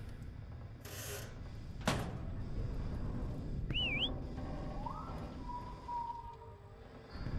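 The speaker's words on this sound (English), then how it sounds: "When you whistle into the abyss, it whistles back." In the video game Lazaret, faint whistles sound from the void: a quick wavering whistle, then a softer rising one that holds a steady tone, over a low rumbling background with a couple of knocks.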